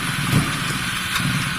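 A Honda CB250 Nighthawk bobber engine runs warm but spluttery and unhappy, a close, steady uneven putter with slight irregular surges.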